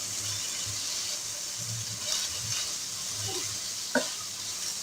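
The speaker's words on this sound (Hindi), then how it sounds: "प्याज को हमने हल्का सा चिकन के साथ फ्राई किया है, मीडियम टू लो फ्लेम पे" Chicken and sliced white green-onion rings fry gently over a medium-low flame, giving a soft steady sizzle with occasional stirring clinks and a sharper knock near the end.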